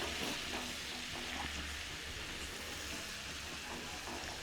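Butter sizzles in a hot pan for butter chicken, a steady, loud frying hiss that runs close and unbroken throughout, with no voices over it.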